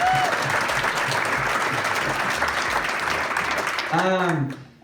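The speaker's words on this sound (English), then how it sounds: "give yourselves a big round of applause for being here" Loud, dense applause fills a room at a recruiting training session in Kansas City, with a voice rising over the clapping near the end before the sound quickly dies away.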